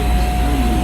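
An Osaka Metro train pulling into Umeda Station, with a brief steady rumble of wheels and a thin motor whine over it.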